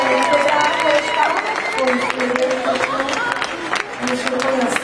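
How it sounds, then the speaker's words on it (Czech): Audience applause and clapping at a Czech children's stage show, a crowd of many hands clapping steadily for several seconds, mixed with voices and chatter throughout. "No taky zatleskáme"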